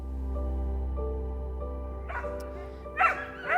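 Distressed dogs rescued from a dogfighting operation in South Carolina whimper and yelp in short, fairly faint bursts over a steady low hum.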